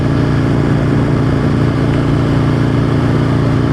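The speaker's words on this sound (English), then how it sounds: "So it looks like the Aprilia is fixed and running beautifully." Aprilia motorcycle engine running steadily after a repair, a continuous loud, even drone with strong low harmonics and no break in level, heard outdoors on a cold ride close to home.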